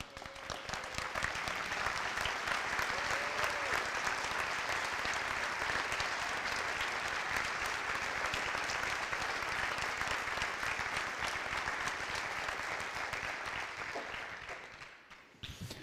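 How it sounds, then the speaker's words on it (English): Sustained audience applause at a school band concert honoring graduating student musicians, a dense even wash of clapping that holds steady for many seconds before tapering off at the end. "I'd just like to honor them by having them stand up so we could give them a round of applause."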